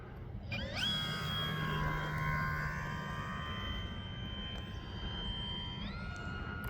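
An E-Flite SNJ-5 Texan RC airplane flies with a steady, high-pitched electric motor whine that holds loud and constant throughout, its pitch rising slightly near the end.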